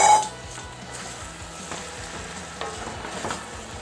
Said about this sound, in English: I'm going to add the eggplant. Stir the pot again.